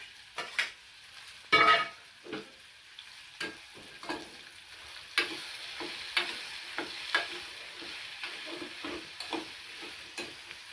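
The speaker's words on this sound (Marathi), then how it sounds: "हलवून घेते" A spoon scrapes and knocks intermittently against a pan as a gourd vegetable curry with masala is stirred, the spaced strokes sounding over a faint, low sizzle.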